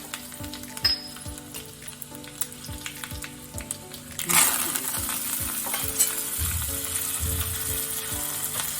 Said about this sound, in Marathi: थोडे मोहरी जिरे कढीपत्ता